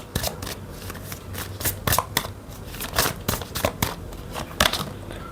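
Tarot cards being shuffled during a reading, a run of quick papery riffles and flicks with sharp slaps as the deck is cut, close and fairly loud with no voice.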